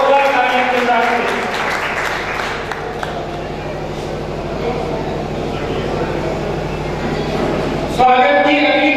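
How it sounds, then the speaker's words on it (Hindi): Applause welcoming guests at a Bhargav Shakti Samiti ceremony in Fatehpur, a steady crowd clapping that fills the hall for several seconds, with a voice speaking over it and a louder burst near the end. "जोरदार तालियों के साथ में।"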